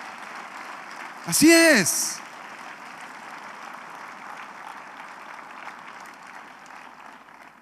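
A church congregation applauds in a steady, diffuse wash throughout, with a single voice calling out loudly over it near the start.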